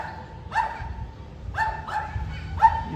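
A dog near a bike service centre in Bangalore barks three times, the second bark doubled, at a moderate distance over a low rumble of street noise.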